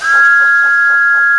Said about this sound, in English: And he whistled as loudly as he could.